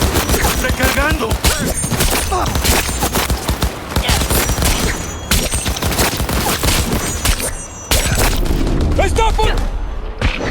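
Loud, dense bursts of automatic gunfire and heavy booms from a firefight in the video game Cyberpunk 2077, nearly continuous, with voices shouting over the shooting.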